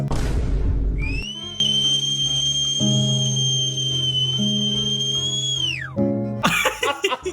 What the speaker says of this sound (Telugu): విజిల్ వేస్తుండే.